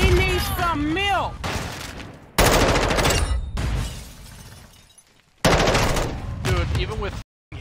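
Gunfire during a Search and Destroy match in an online shooter video game, loud bursts of rapid shots in several separate clusters with short gaps between them, and excited talking in the opening seconds.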